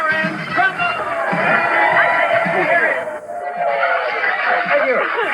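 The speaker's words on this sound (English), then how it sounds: "Good to hear such a responsive audience." Studio audience at a 1988 Oregon Lottery Money Game broadcast cheering and clapping for the hosts, a dense, loud, steady roar of applause and shouts that dips briefly before surging again.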